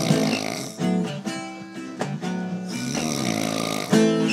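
Loud, close snoring with rasping, rhythmic breaths, several snore strokes in a row, mixed with a musical, tonal quality.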